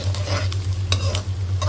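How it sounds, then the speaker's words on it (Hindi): Sliced onions fry in oil to a light brown. A short, close crackling sizzle is broken by several quick stirring scrapes of a spoon against the pan, over a low steady hum. "प्याज को हल्का सा हम ब्राउन करेंगे"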